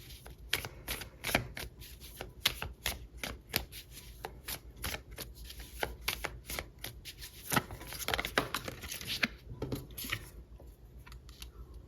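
Tarot cards shuffled and pulled from the deck, a long run of close, crisp riffling flicks and snapping card strikes in uneven bursts, with no talking.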